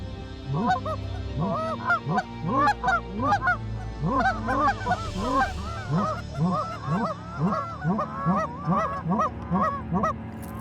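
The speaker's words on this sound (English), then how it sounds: "Canada geese like being talked to." Repeated loud goose honks in a rhythmic series, many calls overlapping from a flock, continuing steadily throughout.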